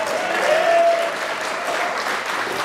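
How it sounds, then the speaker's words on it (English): An audience at a public banking conference bursts into sustained applause, a dense, even roar of many hands clapping with a faint cheer near the start. "I'm delighted to have an applause line"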